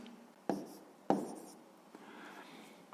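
A pen scratches numbers by hand on paper while working a fifth-grade maths multiplication exercise, two sharp close strokes followed by softer faint scribbling, with no talk.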